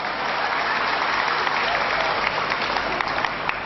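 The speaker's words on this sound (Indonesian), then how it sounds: "tepuk tangan untuk sampean" An audience at a regency head's speech breaks into loud, sustained applause, a dense wash of clapping close and even for the entire stretch.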